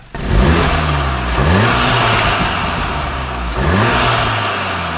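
A Volkswagen Golf R engine revs repeatedly, three rising bursts of intake roar with a steady rumble between them, close and fairly loud.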